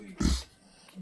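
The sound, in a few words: dog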